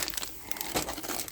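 Paper plans for a Keil Kraft Ajax rubber-powered model plane crinkle and rustle as they are folded and put back, a close, continuous rustling burst.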